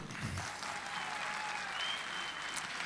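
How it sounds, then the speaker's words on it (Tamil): An audience at a volunteer-honoring ceremony gives sustained applause, a continuous even wash of clapping at a low, fairly distant level with no talk. "எங்கே உங்கள் கரகோஷம்?"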